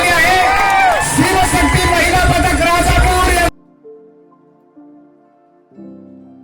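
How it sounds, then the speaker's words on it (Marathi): Crowd at a Dahi Handi festival cheering and whooping for a women's Govinda pyramid team, a loud outdoor roar of mixed voices that cuts off abruptly, followed by faint music. "जोरदार टाळ्या त्यांच्यासाठी त्यांनी सलामी"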